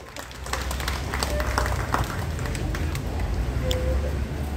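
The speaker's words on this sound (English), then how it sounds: "A big round of applause, please." An audience gives a dense round of applause at an SM Retail employee celebration, with a steady burst of many hands clapping close by that lasts the whole stretch.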